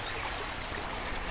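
A creek runs over bedrock with a soft, steady rushing and trickling of water, faint but continuous throughout.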